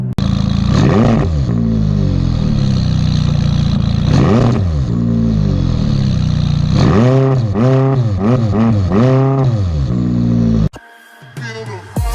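A loud McLaren 570S sport exhaust revs repeatedly, sharp rising and falling blips with a crackling growl, close by, ending with a quick cut and a few quieter sounds.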